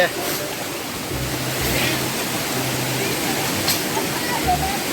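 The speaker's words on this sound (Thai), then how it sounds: "โอ้สุดยอดเย็นยิบหายเลยครับน้ำตก" A waterfall at Phu Phak Wan pours with a steady, dense roar, close and loud, filling the whole stretch. A few faint low hums and brief knocks sit underneath.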